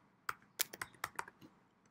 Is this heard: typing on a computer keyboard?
yes